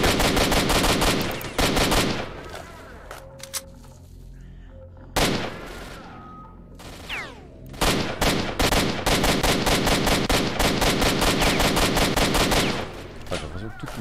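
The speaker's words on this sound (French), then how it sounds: "Les balles partent dans le sol." Bursts of automatic gunfire from S.T.A.L.K.E.R.: Shadow of Chernobyl, loud rapid volleys separated by short quiet gaps, then a long sustained stretch of fire toward the end.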